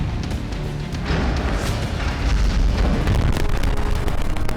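Artillery strike on Kharkiv during the Russia–Ukraine war: a dense, continuous rumble of heavy blasts and booms, loud and sustained, with overlapping low thuds and crackling bursts throughout, no talk.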